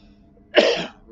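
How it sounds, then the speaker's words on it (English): A single short, harsh cough from a heavy smoker bursts out close by, then quickly fades into quiet. "Sorry about the coughing."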